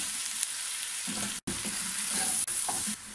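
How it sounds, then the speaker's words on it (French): Chicken sizzles steadily as it browns in a hot pan, a constant frying hiss broken by brief scraping stirs, close up with no talking. "Alors là, on va faire rissoler pendant 2-3 minutes comme ceci."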